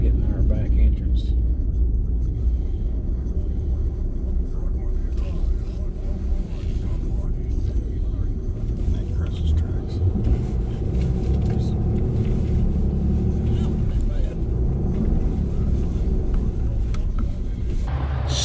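A truck driving a snowy road in Texas gives a steady low engine rumble and road noise, close and continuous throughout, with a person talking over it.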